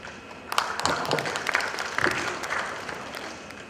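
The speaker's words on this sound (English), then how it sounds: "Give big applause for him." Audience at a radiographers' conference applauding, a moderate burst of scattered clapping that builds and then thins out over a few seconds, heard from within the hall.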